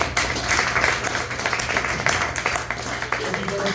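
An open mic audience at Pushroot Brewing in Lander, Wyoming, clapping steadily and fairly close for several seconds, a crowd of hands patting in an even patter that fills the room.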